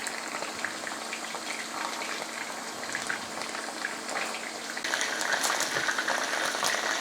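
Pieces of lemon chicken frying in hot oil, giving a dense, continuous bubbling sizzle that grows slightly louder and brighter partway through.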